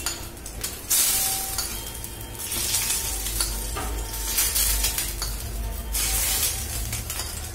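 Steady, loud sizzling and crackling of egg frying in a hot pan for mutton dabba gosht, with occasional scraping and light clinks of a utensil stirring.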